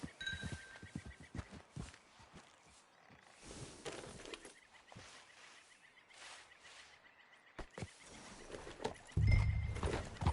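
Horse hooves clip-clop at a steady walking pace in the Red Dead Redemption 2 video game, with a horse's whinny and ambient wildlife sounds around them, fairly quiet throughout.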